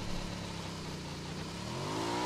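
A vehicle engine in PUBG Mobile fires up and revs steadily, a continuous mid-pitched motor drone with a rising whine toward the end, loud and close, with no voices over it.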